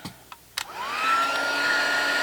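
A craft heat tool melting embossing powder on a paper tag: a few light taps, then a hot-air blower whirs up and holds a steady rushing drone with a faint whine, close and alone.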